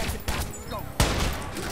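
Sniper gunfire cracks in the video game Watch Dogs, with two sharp shots about three-quarters of a second apart over a dense, noisy game soundscape.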